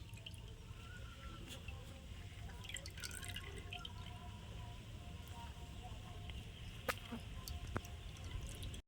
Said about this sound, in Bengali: আমি এইভাবে হাত দিয়ে নিকড়ে নিচ্ছি